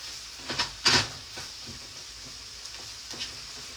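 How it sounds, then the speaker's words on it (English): Mixed vegetables cooking in a pan on medium heat make a quiet sizzle, broken by a few short bursts of stirring and scraping. "I'm going to let the mixed vegetables cook a bit"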